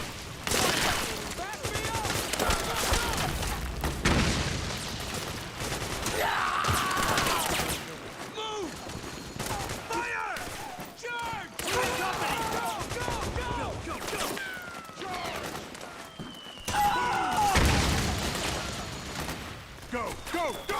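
Dense sustained gunfire from the video game Metal Gear Solid 4: Guns of the Patriots on PS3, rapid bursts and rattling volleys overlapping for the whole stretch, loud and busy, with shouted voices breaking through the battle.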